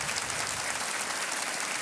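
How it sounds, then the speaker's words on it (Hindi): Studio audience applauding on a television quiz show, a steady, dense wash of clapping filling the room for about two seconds with no voices over it. "तालियां बजती रहनी चाहिए"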